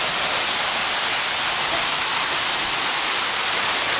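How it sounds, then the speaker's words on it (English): A waterfall roars as a steady, loud, broadband wash of rushing water, close by and unbroken throughout. "And here we are at the waterfall."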